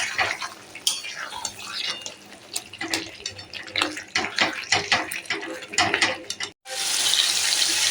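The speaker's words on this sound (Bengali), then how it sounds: "জল দেবো এর মধ্যে, জল দিয়ে একটু কষাবো" Water pours into a mutton curry in a cooking pot, a steady splashing stream with clinks of utensils, ending in a louder continuous gush.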